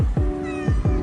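A cat meows loudly at close range, giving two short pairs of bright, slightly rising calls separated by a brief pause.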